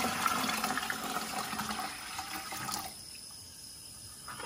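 Dirty water being poured out, a steady splashing, trickling stream that runs continuously at moderate volume before thinning to a softer dribble near the end.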